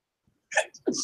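A single sharp sneeze, a quick intake followed by an explosive burst, close and fairly loud.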